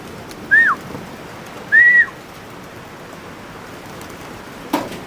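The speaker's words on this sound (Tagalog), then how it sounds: "So yun, may bumaba na mga kalapatids." Pigeons coming down to a backyard loft during rain: two short, clear rising-and-falling whistles about a second apart over a steady hiss of rainfall, followed by a brief faint knock near the end.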